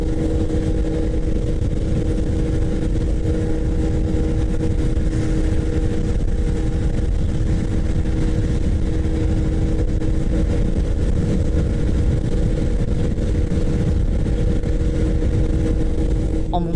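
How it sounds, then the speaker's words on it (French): A Honda ADV160 scooter accelerates toward its top speed on the road, with a loud, continuous engine drone and wind roar holding steady throughout, heard close from the rider's position. "Voyons la vitesse maximale de l'ADV 160."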